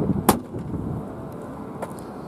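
The lid of a BMW M5 Competition shuts with a single solid thump near the start, followed by quiet car-side ambience and a couple of faint clicks.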